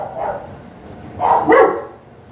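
A dog barks inside a house, a few short barks and yips, the loudest coming in a close pair near the end, with no talk over them.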